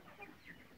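Hens and guinea fowl on a farm cluck softly at a distance, a few faint short calls over quiet background, with no talking.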